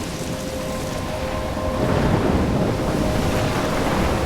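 A storm in the Life Is Strange video game: a wide roar of wind and rain with a thunder-like rumble that swells louder about halfway through and stays heavy, with no voices.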